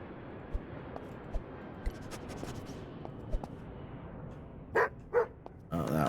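A dog barks in Airport Baggage Simulator. A few faint clicks come first, then three short, sharp barks near the end stand out clearly over a quiet background.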